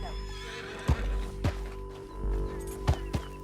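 A horse gallops after a group of men, with a steady rhythm of heavy hoofbeats thudding at close range and a low rumble of motion beneath.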